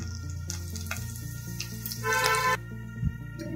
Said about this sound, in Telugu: ఇందులో శనగపప్పు వేస్తున్నాను